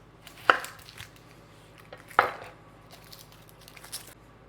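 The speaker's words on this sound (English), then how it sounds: "So now we're going to chop up a little bit of tomato and a little bit of fresh onion," A knife chops tomato and fresh onion on a cutting board, two distinct sharp thuds about a second and a half apart followed by lighter taps, close and clear in a quiet kitchen.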